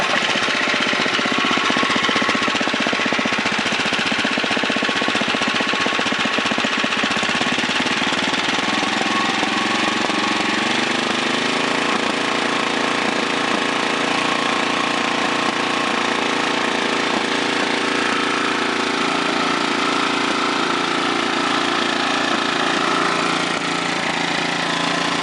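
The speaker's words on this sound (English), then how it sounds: "Excellent, clean 2006 Tecumseh Snowking engine." A clean 2006 Tecumseh Snowking 5.5 hp 195cc small engine runs steadily on a slightly wobbly bench, a loud, continuous buzzing drone with a rapid even putter and no speech over it.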